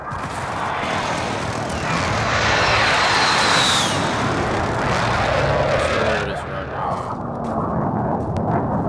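In Call of Duty Warzone, airstrike aircraft roar overhead as a loud, sustained rush that swells and fades, with rumbling booms underneath and other game sounds.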